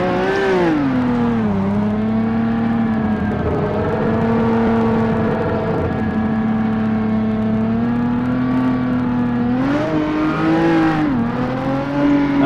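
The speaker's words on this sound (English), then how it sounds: "So 1979 Ferrari 312 T4, as driven by Jules Villeneuve. Sounds more like a Ferrari." A 1979 Ferrari 312 T4 Formula 1 car's engine screams loud and close, holding a high steady note with dips and rises as it shifts and revs, running alone without talk.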